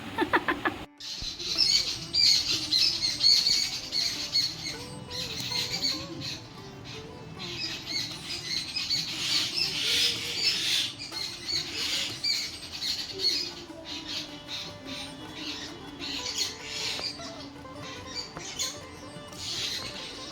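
Agitated mynas and bulbuls chatter and squawk alarm calls at a cat continuously in a busy outdoor setting, harsh calls overlapping at moderate distance with no talking.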